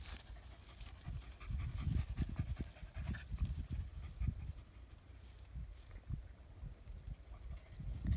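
A dog panting quietly and close by, with fast, steady, breathy huffs in an uneven rhythm over a faint background, without speech.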